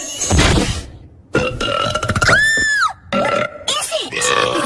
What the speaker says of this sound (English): It seems to be a box of burps